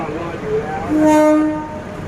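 A KIHA 183 train horn sounds a sustained blast as the train departs, over the rumble of the nearby train, with a brief shorter toot just before it.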